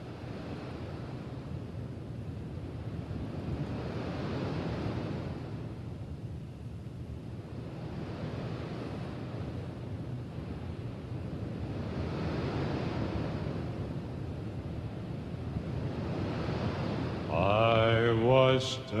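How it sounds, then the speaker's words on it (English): Ocean waves crashing as a sound effect, a steady wash of surf that swells and recedes in slow, broad surges, with a brief sharper burst of another sound at the very end. "he created some sound effects of some waves"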